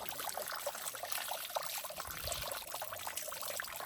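Cold mountain water runs in a steady trickle over freshly harvested garlic being washed outdoors at Rammam, a continuous close splashing stream with no talk.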